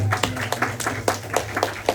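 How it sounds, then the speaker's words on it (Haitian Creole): A church congregation applauds in a quick, fairly even rhythm of claps, moderately loud with a low hum underneath. "On applaudit, c'est le temps d'applaudissement à la gloire de Dieu"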